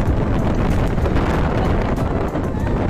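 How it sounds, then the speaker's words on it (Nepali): Strong wind buffets the microphone outdoors on a roadside near Jogidaha, Udayapur, producing loud, constant low roaring rumble that fills the whole clip. "नसुन्ने जस्तो हावा"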